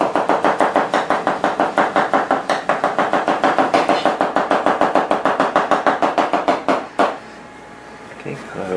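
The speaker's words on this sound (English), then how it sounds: "Chop up cilantro, mix into." A knife chops cilantro leaves on a cutting board in rapid, even rhythmic strokes, about four per second, close and crisp for roughly seven seconds before stopping, followed by brief quiet handling.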